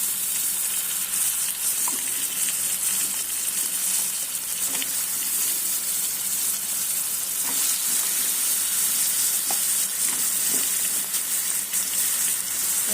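Potato pieces frying in a turmeric tempering in a pan give a steady, close sizzle that runs throughout, with occasional soft stirring clicks and no talking.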